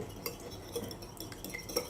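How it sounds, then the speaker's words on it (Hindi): Egg and milk for French toast whisked in a bowl, quiet, quick metallic taps and light clinks of a utensil against the bowl, close up and continuous. "फेंटना है"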